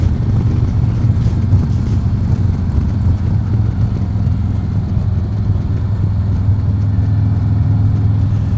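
A 2021 Harley Davidson Street Glide Special engine drones low and steady while riding, a constant deep rumble blended with heavy wind buffeting at the microphone and no voices.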